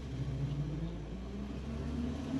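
A 1952 Chevrolet Deluxe Hardtop on the move, its engine giving a steady, close low rumble with a faint rise and fall in pitch as it runs through the gears.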